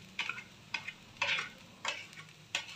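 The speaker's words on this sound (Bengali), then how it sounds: "এখন ভালো করে নেড়ে চেড়ে মিক্সড করে নেবো এটাকে" Flattened rice for poha, mixed with turmeric, salt and sugar, is stirred in a pan with five separate scraping strokes, each a short close rasp, against a faint background hum.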